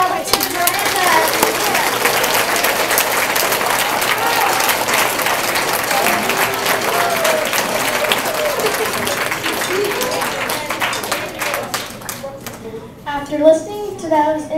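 A round of applause fills a school Thanksgiving assembly for the participating teams, steady dense clapping from a large audience that holds for most of the stretch before thinning near the end.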